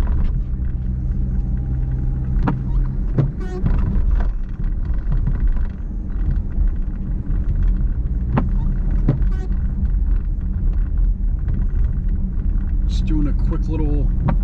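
A car drives through downtown Cincinnati along a streetcar route, giving a steady low engine and road rumble throughout with occasional sharper knocks and bumps, while people talk over it.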